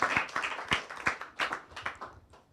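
Audience applause at an evening talk event on internet politics, a short burst of scattered hand claps from a modest crowd, fairly close and loud at first, then thinning out and fading.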